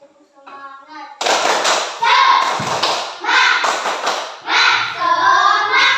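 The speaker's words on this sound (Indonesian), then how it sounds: "Ayo tepuk tangan untuk kita semua." A class of children clapping hands together in a classroom, loud close bursts of brisk clapping in uneven waves, with voices calling out between them.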